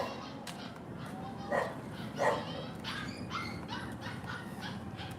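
A little puppy hidden behind a wall whimpers and barks in a string of short, thin yips at middling distance, muffled against a steady outdoor background hum.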